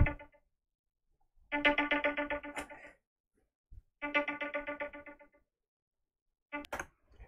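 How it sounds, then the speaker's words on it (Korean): A phone ringtone plays a bright, electronic melodic pattern in two separate repeated bursts of about one and a half seconds each, with a short fragment at the end, loud and close, with silence between the bursts. "갑자기 전화가 와서 전화 잠깐 받느라고"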